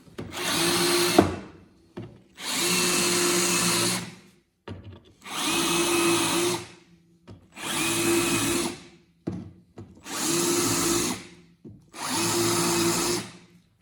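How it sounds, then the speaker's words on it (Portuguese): A power drill countersinks screw holes in MDF in seven separate bursts, each whirring for about a second and a half with short pauses between, close and fairly loud. "Então aqui está escariado e agora é só colocar os parafusos"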